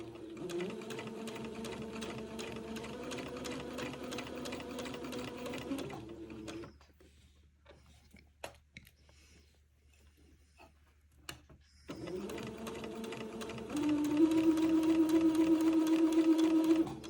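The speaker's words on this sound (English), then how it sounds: "this will take me a minute to get this sewn all the way along the armhole opening" A sewing machine runs a long seam along a baby garment's armhole opening, steady and close, cutting out for a quiet stretch of handling noises in the middle before resuming at a slightly higher, louder pitch.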